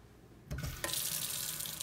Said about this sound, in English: the only water coming out right now is the water that's left in the pipe